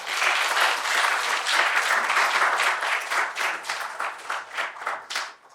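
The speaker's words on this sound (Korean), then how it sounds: "우리 정명호 교수님께 다시 한번 큰 박수 부탁드립니다." A lecture audience claps loudly for a professor after a talk, dense sustained applause that thins out into separate claps and fades toward the end.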